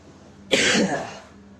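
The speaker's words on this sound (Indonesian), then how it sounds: "Sorry ya, batuk-batuk." A single harsh cough bursts out close by, followed by a fading rasp, with quiet room tone before and after.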